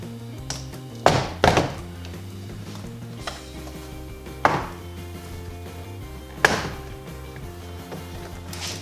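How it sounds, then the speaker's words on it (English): Several sharp plastic pops and thunks as Honda Accord door panel clips snap loose, a few seconds apart, with a steady low hum in the background. "All it's gonna do is gonna pull out some clips"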